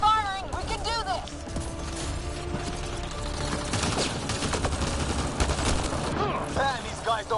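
Heavy gunfire in the video game Mass Effect: Andromeda, loud sustained volleys with booming impacts and whooshing effects, while voices shout over the combat.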